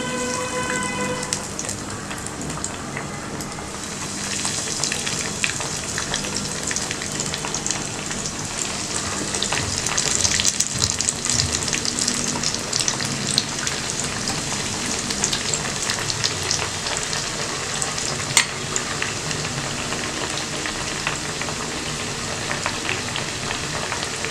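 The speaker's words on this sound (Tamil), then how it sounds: "நம்ம ஷாலோ ஃப்ரை பண்ண போகிறோம். கொஞ்சம் தான் எண்ணெய் ஊற்றிருக்கேன்." Sliced bottle gourd shallow fries in a small amount of oil, crackling and sizzling steadily for the whole stretch, with scattered pops and occasional utensil clicks close by.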